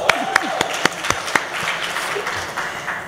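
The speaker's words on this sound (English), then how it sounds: "Yeah, give them a very warm clap." An audience at a welcome address applauds warmly, with steady dense clapping and a few sharper nearby claps, over a murmur of the crowd.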